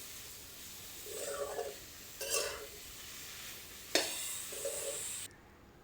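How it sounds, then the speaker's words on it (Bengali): Pumpkin greens with cumin, chili and coriander being stir-fried in a pan: quiet bursts of sizzling and scraping as the spatula stirs, with a couple of sharp utensil clinks between the strokes. "ভাজা ভাজা করে নেব শাকটা।"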